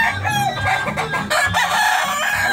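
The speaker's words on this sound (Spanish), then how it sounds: "Muy buenos gallos." Sweater Kelso roosters and hens crowing and clucking close by, with overlapping loud crows and cackles filling the whole short stretch without pause.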